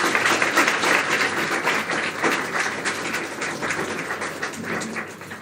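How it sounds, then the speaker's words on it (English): Crowd applause at a high school graduation ceremony, sustained dense clapping from a large audience, fairly loud and steady before slowly tapering off. "Give them a round of applause, please."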